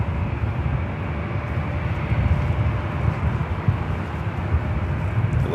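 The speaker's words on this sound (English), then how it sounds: "Heading up here for north side at takeoff as it makes that right-hand turn on to Echo." A jet airplane takes off at Los Angeles International Airport, a steady loud roaring engine rumble sustained throughout, with no voices over it.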